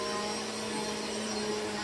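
A Bissell Powerforce Helix Turbo Pet upright vacuum cleaner runs at a steady, loud motor whine with a broad whooshing airflow, close and unbroken, with no talking.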